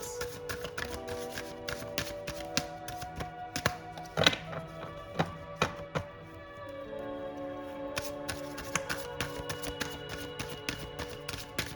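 Tarot cards being shuffled and drawn give a continuous stream of close, crisp flicks, slaps and taps at a fast, uneven rhythm with no talking.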